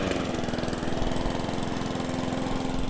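A lawn mower engine runs steadily and close by, with a constant mid-pitched drone and rapid rhythmic firing pulses, heard alone without talk.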